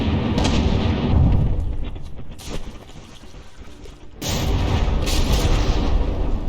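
Warship guns boom again and again in a From the Depths naval battle, with dense, loud, rumbling fire that drops to quieter scattered blasts before heavy barrages return, and no voices.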